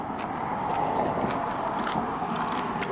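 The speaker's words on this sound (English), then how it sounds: "And I just chew it." Someone chews boiled bok choy, close and crisp, with repeated wet crunching bites over a steady background.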